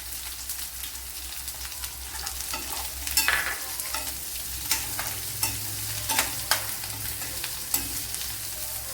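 Chopped small onion sizzling and frying in a hot pan for a green peas dish, with a steady soft crackle broken by scattered sharp pops and a few stirring scrapes, no voices.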